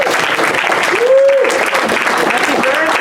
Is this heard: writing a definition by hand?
no